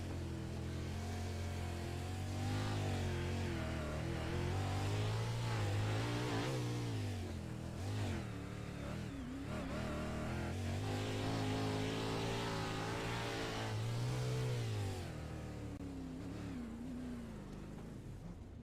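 A 410 sprint car engine in a racing sim roars continuously at high revs, its pitch rising and falling with repeated throttle blips as the car is driven hard, heard close up and loud without pause.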